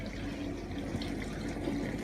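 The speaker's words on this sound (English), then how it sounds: "but the dishwasher is running." A dishwasher with a newly replaced lower door seal runs steadily, giving a continuous watery swish and splash of spray inside the cabinet, close by and even in level with no talking.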